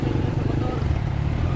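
Motorcycle engine chugging in first gear while a beginner rides, a steady low rumble close by with a voice partly over it.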